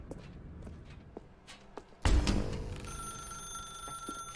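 A telephone rings in The Stanley Parable video game, a sharp electronic bell ring that cuts in after a series of soft footsteps and then rings on with clear sustained tones.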